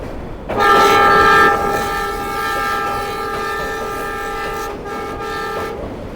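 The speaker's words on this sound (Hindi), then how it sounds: "ZCU को हॉर्न जो है आप सुन सकते हैं" A loud, sustained diesel locomotive horn on a ZCU locomotive blares for several seconds, with a short break near the end, over the rumble of a moving train crossing the Ravi River bridge.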